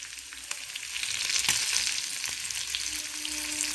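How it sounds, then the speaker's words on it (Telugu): Chicken curry with fresh mint sizzles and fries in a pan while being stirred, giving a steady crackling hiss with occasional scraping clicks of the utensil, close and continuous. "పుదీనా వేసేస్తున్నాను. ఒకసారి కలిపెట్టేసుకుందాం ఈవెన్గా."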